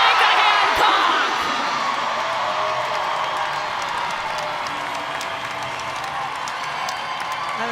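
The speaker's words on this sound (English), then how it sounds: "the crowd's on their feet for the volleyball, for the rally" A home volleyball crowd at a LOVB Austin at LOVB Houston match cheers and claps on its feet after a rally, loud at first and then settling into a long, sustained roar.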